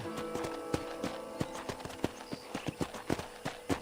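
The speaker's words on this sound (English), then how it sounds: "let's see if you can still ride a horse" Hooves of a horse in Red Dead Redemption clip-clop in a steady walking rhythm, close and moderately loud, with faint background sound.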